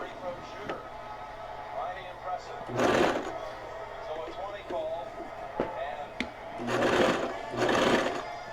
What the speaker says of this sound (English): So now I'm stitching the band.